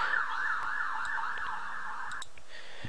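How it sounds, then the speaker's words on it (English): A police car siren outside wails in a fast repeating rise-and-fall pattern, fairly clear and steady, then cuts off near the end, leaving a few scattered clicks and no speech. "I just had to pause the video so the police car just goes away."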